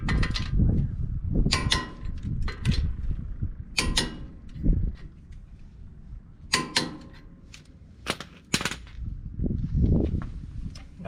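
A torque wrench tightens the lug nuts on a 1.5-inch wheel spacer on a Ford Raptor, giving a series of sharp close clicks and metallic snaps in uneven clusters.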